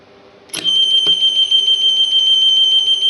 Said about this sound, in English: it'll go into full alarm when I press the PA button